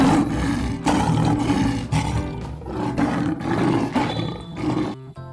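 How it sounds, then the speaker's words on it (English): A lion roars repeatedly in a series of loud, rough, raspy bursts that swell and fade with short breaks between them, close and dominant with no speech. "L for lion."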